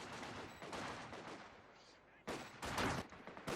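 Rapid gunfire and bursts from the World War II strategy game Company of Heroes 2, with Kar98k rifles and MP40 submachine guns trading shots between German Grenadiers, Pioneers and Soviet Conscripts; dense, continuous crackle that swells louder near the end, with faint voices underneath.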